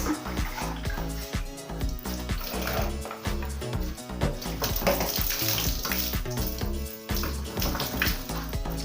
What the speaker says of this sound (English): Then we rinse.